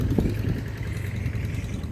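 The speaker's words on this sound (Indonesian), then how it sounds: "Dulu sebelum ada mesin traktor seperti ini" A tractor engine running in a farm field, a steady low rumbling chug at close range with a faint rhythmic knock, continuous and unbroken throughout.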